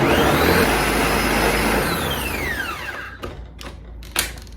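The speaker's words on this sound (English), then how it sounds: "we're gonna blend on low" A blender whirs steadily on low speed while blending watermelon, its motor pitch sliding downward as it winds down after about three seconds, followed by a few light clicks and handling knocks.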